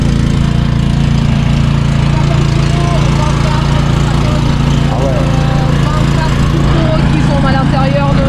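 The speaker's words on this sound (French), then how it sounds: "c'est vraiment le broyeur multivégétaux" Eliet multi-material garden shredder running outdoors, a loud steady engine drone with a constant low hum throughout, voices talking faintly beneath it.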